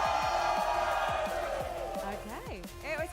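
A large crowd at a VALORANT Masters London esports playoff roars in a sustained wash of cheering and whooping, with higher shouts rising near the end.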